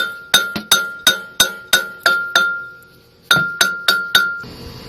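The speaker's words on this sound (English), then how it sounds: "Now this wheel's still on here, so you got to tap it to get it off" A hammer repeatedly strikes a Generac generator flywheel to loosen it from the crank, giving sharp ringing metallic clinks. About eight evenly paced taps come first, then a short pause and four more, each tap ringing out briefly.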